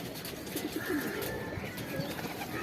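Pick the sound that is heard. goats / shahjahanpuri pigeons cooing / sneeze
shahjahanpuri pigeons cooing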